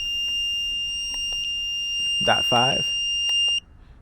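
A brake fluid water-content tester gives off a steady high electronic beeping alarm, with a person speaking briefly over it before the tone cuts off.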